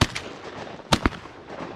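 Two sharp reports from a 28 gauge shotgun fired during a duck hunt in Wyoming, close together near the end of a breezy outdoor stretch, loud and abrupt.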